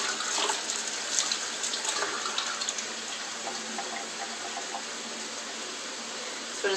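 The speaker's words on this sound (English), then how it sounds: "I'm going to grab some spinach real quick and give it a rinse" Spinach is rinsed under a running kitchen tap, a steady close gush of water that holds evenly throughout with faint splashing and no talk.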